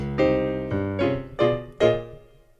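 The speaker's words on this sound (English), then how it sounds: "That's the sound of all our glasses." Glasses clink together several times in a loose series of bright, ringing chimes, each tone decaying quickly before the next.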